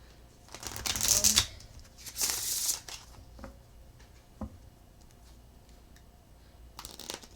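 Tarot cards being shuffled in a few quick riffling bursts, close by, separated by quieter pauses with faint handling noises.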